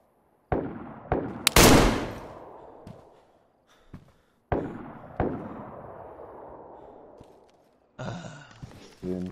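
Gunshots ring out in the video game DayZ at a prison tower near an airfield: several sharp cracks with long decaying echoes, one very loud close blast, spaced irregularly, followed by rapid clattering near the end.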